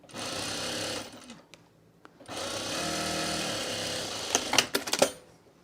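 A sewing machine runs in two sustained bursts, stitching a clean-finished seam on scrap fabric, with a short pause between them and a few sharp clicks and clunks at the end.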